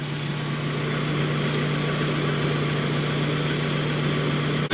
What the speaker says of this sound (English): I'm gonna let the engine warmed up.